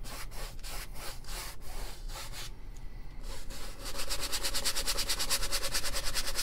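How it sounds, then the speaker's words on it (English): A paintbrush scrubs green and yellow paint onto canvas in close, rapid, rhythmic strokes. The scratchy rubbing continues throughout, with a brief lull midway and then a steadier, faster run of strokes. "Scrub it on in, best you can."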